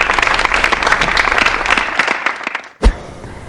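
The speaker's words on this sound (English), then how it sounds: "Boom, big round of applause again, that was great." An audience gives a big round of applause, loud dense clapping for about two and a half seconds that ends with one sharp final clap.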